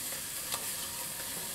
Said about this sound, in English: And we're going to let this sizzle